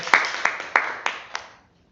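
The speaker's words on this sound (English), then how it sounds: "give yourself a round of applause for all the table topic speakers" A handful of distinct hand claps from a small group at a Toastmasters-style meeting, honoring the table topic speakers, about five sharp close claps in an uneven rhythm that fade out to silence.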